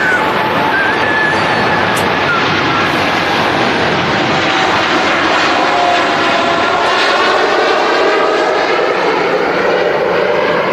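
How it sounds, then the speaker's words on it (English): An Etihad Boeing 787-10 Dreamliner departs from runway 23R at Manchester Airport, a loud, steady jet engine roar that fills the whole stretch without letting up. "Etihad Dreamliner -10 with the Eco Demonstrator stickers on her as well"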